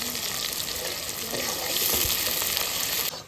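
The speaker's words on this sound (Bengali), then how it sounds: "পেঁয়াজটা সুন্দর করে ভেজে নিচ্ছি," Onions sizzle steadily in a hot pan with salt, after whole cumin, dried red chilli and bay leaf went in, a continuous close frying hiss with light stirring and no talk.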